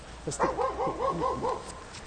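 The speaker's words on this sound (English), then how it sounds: "Is the barking a police dog?" A police dog barks several times in quick succession at a protest, muffled and somewhat distant, over steady background noise.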